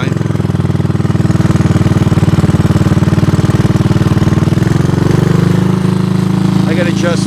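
A 1983 Honda ATC200 three-wheeler engine idles close by, a loud, steady, throbbing putter that holds for several seconds with slight shifts in pitch near the end.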